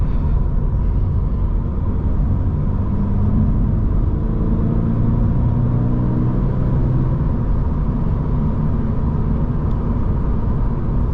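Steady, loud low rumble of a 2024 Toyota GR86 Premium six-speed manual sports car cruising, engine and road drone filling the cabin continuously without gaps or voices.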